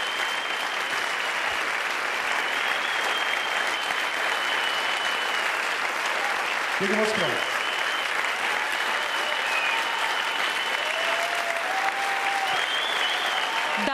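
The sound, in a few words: audience applause after a song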